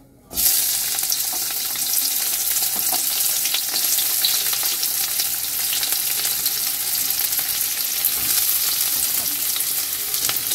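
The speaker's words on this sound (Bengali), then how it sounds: "এবার আমি পেঁয়াজ কুচিগুলো দিয়ে দেবো।" Chopped onions drop into hot white oil in a wok and burst into a loud, dense sizzle that holds steady to the end, with occasional crackles and light stirring.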